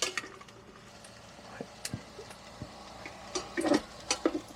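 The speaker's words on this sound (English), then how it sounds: "So the sausages are a sizzling." Sausages frying gently in a pan with garlic over a wild-camp bonfire on a cold night: a soft, steady sizzle with scattered pops and ticks, fairly close and continuous, with no talking.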